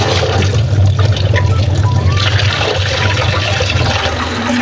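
Small country chickpeas that have been soaked are rinsed in water, giving a steady sloshing, trickling wash that runs close and fairly loud throughout with no clear talk.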